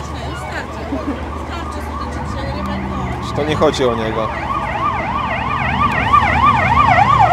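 An ambulance siren wails, rising and falling steadily, growing louder as it approaches a fair in Szczecin, with a few voices talking over it.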